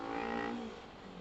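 A motorbike revs and accelerates along a road in Goa, a close, loud engine note that climbs and then fades back over about a second, with no talking.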